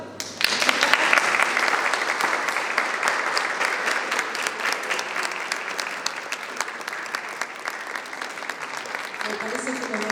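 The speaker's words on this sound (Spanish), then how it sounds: "¡Aplausos!" An audience at an archaeology project training session breaks into sustained applause after a talk, dense clapping that swells quickly and holds for several seconds before slowly thinning, with a few voices at the end.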